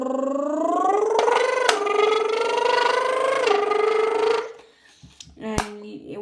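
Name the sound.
can crackling to imitate a V10 engine noise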